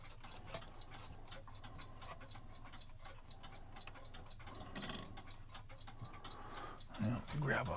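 An antique Swiss-made Hunter-style cuckoo clock, missing its bird and with bellows needing repair, ticks faintly and steadily in a quiet room while someone talks over it.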